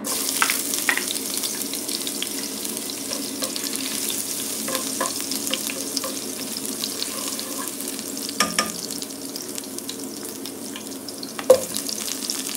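Food being sautéed in oil in a pan gives a steady, close sizzle with occasional scrapes and knocks from stirring, continuous throughout without talk.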